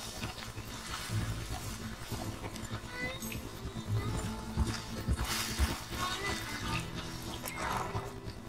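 Horse hooves clip-clop at a steady walking rhythm in Red Dead Redemption 2, with occasional snorts and a whinny, under game dialogue and ambient outdoor sound.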